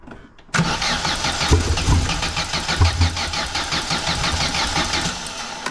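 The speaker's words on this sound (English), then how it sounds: "I'm on the throttle here." Vauxhall Nova car engine catching and firing up abruptly, then running loud and close with a rough, uneven throttle-driven note and repeated surges.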